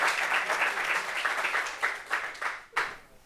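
A gathering gives a guest a warm round of applause: loud sustained clapping that thins out into a few scattered final claps before fading.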